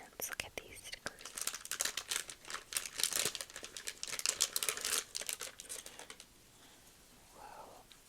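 Sticker sheets being handled close up, with dense crinkling and crackling rustles for about six seconds, then quieter handling and faint breathy whispering.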